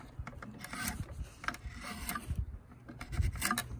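A blade pares down a wooden timber-frame peg in short scraping, rasping strokes, close up and irregular, with no voices.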